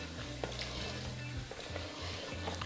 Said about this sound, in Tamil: சரி, காடை நல்லா வதங்கட்டும்.